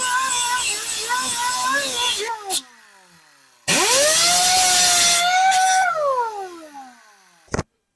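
An angle grinder fitted with a cutoff wheel touches up lumpy welds on a part being fabricated for a 1926 Oakland car. The motor whines up in two loud bursts, each winding down with a falling pitch, with brief short clicks.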